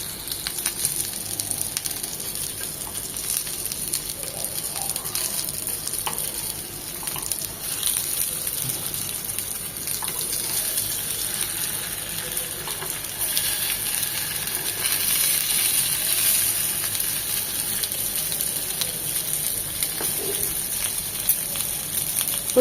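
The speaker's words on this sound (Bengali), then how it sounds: "4 থেকে 5 মিনিট মিডিয়াম টু লো হিটে ভেজে নেব।" Chicken keema seekh kebabs fry in an oil-filled pan over medium-low heat, giving a steady, moderately loud sizzle and hiss that lasts throughout without talk.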